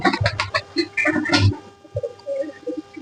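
Pigeons feed on khichuri rice in a home pigeon loft, a few soft coos and pecking bursts sounding close, strongest in the first half and then thinning to scattered quiet calls.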